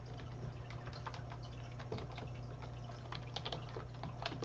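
Quiet, rapid keyboard typing while entering links, soft scattered key taps over a constant low hum and trickling water from a fish room.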